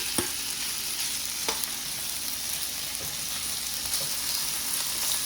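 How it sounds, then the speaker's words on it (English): Shrimp go into hot oil in a pan, and a steady sizzle runs throughout, broken by several sharp clicks and taps as the pieces are laid out flat. "we're going to go in with all of our shrimp."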